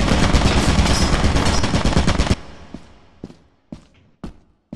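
Turret firing in a video game, a loud rapid burst of automatic gunfire lasting a couple of seconds, then dying away into a few scattered thuds and footstep-like knocks.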